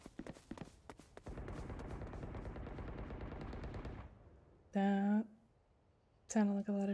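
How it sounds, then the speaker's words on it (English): Rapid gunfire from the video game Valorant rattles in a dense burst for about three seconds, followed by short electronic game cues; voices may be present. "That sounded like a lot of shooting."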